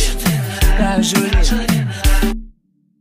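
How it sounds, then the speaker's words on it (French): Conga sound layered into a Kompa beat, playing over deep bass hits and melodic tones in a loud, full mix that loops for a couple of bars before cutting off abruptly. "Ensuite, on a ajouté un son de conga."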